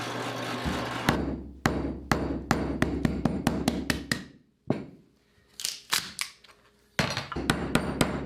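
Sharp hammer blows knock a glued wooden table leg apart on a drill press, ringing out in quick irregular bursts, close and loud, with a short quiet pause midway before the striking resumes.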